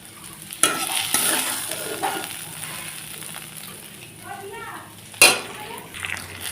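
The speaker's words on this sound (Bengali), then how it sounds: "ওটা একটা ডিম দিয়ে দিয়েছি ডিমটাকে একটু ভেজে ভালো করে ইসে করে নিচ্ছি" An egg fries in hot oil in a pan for chowmein, giving a soft continuous sizzle with occasional stirring scrapes and two sharp metallic clanks of a utensil against the pan.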